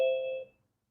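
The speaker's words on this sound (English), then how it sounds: "My doorbell just rang." A doorbell gives a single bright chime that rings out and fades within half a second, alone in an otherwise quiet room.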